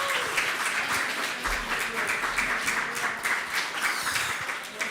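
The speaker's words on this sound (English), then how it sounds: "So the last round of applause is to yourselves for buying tickets and coming to see Fusion again." Applause from the crowd at a tech meetup, steady and dense clapping that fills the room for the whole stretch, with faint voices underneath.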